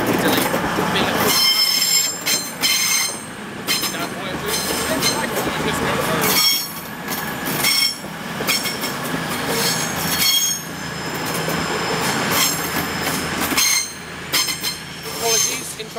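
A Voyager train rumbles loudly through Manchester Piccadilly station with steady rolling noise and squealing wheels throughout, swelling and easing over about sixteen seconds with no clear speech.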